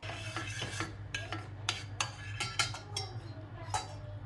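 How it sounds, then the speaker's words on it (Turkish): A spoon stirs melted sugar in a pan, making repeated light metallic scrapes and taps at an uneven rhythm over a low background hum. "Şeker iyice eridikten sonra kaşıkla karıştırmaya başladım"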